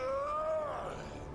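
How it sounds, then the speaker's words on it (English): A Krogan creature in the video game Mass Effect Andromeda gives a single drawn-out groaning call that bends downward and fades within about a second, standing alone over a quiet game background. "That sounds like a Krogan."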